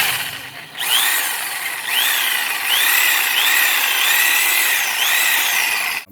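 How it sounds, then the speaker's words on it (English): A Sawzall reciprocating saw cuts through metal car roof rack cross bars, a loud, close, continuous buzzing whine with a rapid repeating stroke pattern that starts after a brief pause and stops abruptly at the end. "the Sawzall, or the reciprocating saw"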